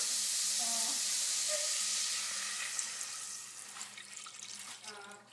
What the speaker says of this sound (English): I'm going to add some milk